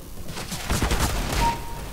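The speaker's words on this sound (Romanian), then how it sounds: "Iar mă dat cu petarda aia de shotgun." Shotgun fire in a video game: a quick burst of several booming blasts in rapid succession, loud and close, with no talk.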